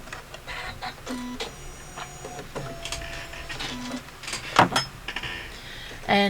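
A computerized sewing machine stitching the placement outline for an applique in a quilt block, a mechanical whirr with clicks and brief motor tones, a sharp clack near the end, close and without speech.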